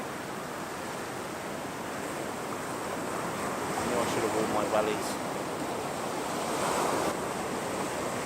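Waves wash up onto a rocky coastline in a steady, broad surf roar, close and fairly loud, with some wind noise, while someone briefly speaks over it.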